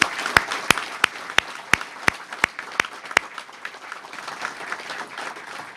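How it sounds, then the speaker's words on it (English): Audience applauding award winners at a scholarship award ceremony: about ten sharp, evenly spaced claps ring out over a steady bed of crowd clapping that carries on and gradually thins. "One last round of applause for our winners."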